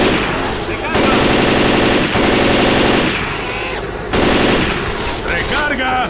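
Rapid automatic machine gun bursts in the zombie shooter Left 4 Dead 2, loud sustained volleys broken by short pauses, with players shouting in Spanish over the gunfire.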